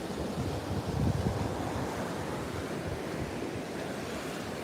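Ocean waves wash steadily onto a beach in Mexico, a continuous broad roar of surf with some wind rumble and no voices.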